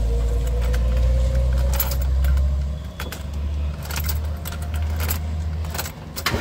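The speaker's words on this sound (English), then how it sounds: "we'll just prime her up a few times to fill up that filter" A Jaguar Series 3 V12's fuel pump is primed. A low, steady electric hum runs and then stops, with jingling keys and faint mechanical clicks close by.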